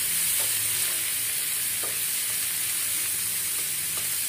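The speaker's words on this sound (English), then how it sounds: "Then I will add chopped tomato and fry it." Onion, ginger paste and chopped tomato fry in a pan for egg curry, a steady loud sizzle with faint stirring scrapes throughout.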